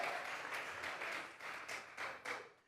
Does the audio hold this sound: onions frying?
no